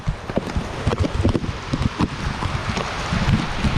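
Heavy rain and gusting wind on a farm near Mount Arayat, a rough continuous roar of wind buffeting the microphone over dense rainfall.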